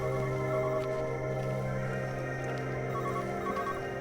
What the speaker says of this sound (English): Yes, it's a phone.